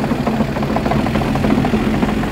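A farm tractor's engine runs steadily nearby, a loud, dense, continuous rumble with no pauses and no voices over it.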